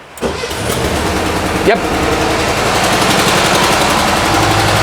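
An old air-cooled 1965 VW Bus engine cranks with the choke on and catches, then settles into a loud, rattly, ticking idle; a voice speaks briefly at the start.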